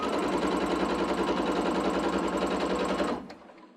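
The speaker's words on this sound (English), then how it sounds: "we're just going to join them with a 1/4 inch seam allowance." A sewing machine joins cotton quilt patches with a quarter-inch seam, a loud, rapid, even mechanical chatter running steadily for about three seconds before stopping abruptly, close up with no talking.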